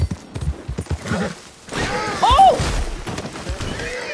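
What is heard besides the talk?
stolen horse galloping, from video game Red Dead Redemption 2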